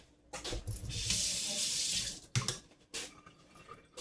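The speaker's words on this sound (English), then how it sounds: "I will wash this back out so I can taste it again." A kitchen tap runs hard as a tasting utensil is rinsed under it, a steady close rush of water for about a second, then shorter splashing bursts as the stream is interrupted and resumes.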